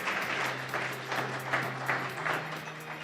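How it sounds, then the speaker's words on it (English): Audience applause at the IvyCap Day 2022 event, a steady, moderately distant wash of clapping under a low hum, holding without pause. "A huge round of applause, ladies and gentlemen"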